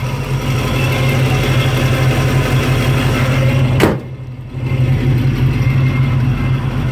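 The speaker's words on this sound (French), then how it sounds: "on le discerne mieux moteur capot fermé à l'intérieur de la voiture" A 1966 Ford Mustang V8 engine idles steadily with a low, throbbing rumble, heard from inside the cabin with the hood closed; a brief click interrupts it midway before the hum resumes.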